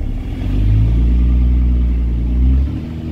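A 2006 Cummins diesel truck accelerates in second gear, its loud low engine drone steady for about two and a half seconds and then dropping away sharply.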